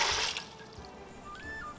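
Water is poured into a pot holding green onion and ginger for a roast duck brine, a brief splashing rush that is loudest at the start and then settles into a quieter trickle.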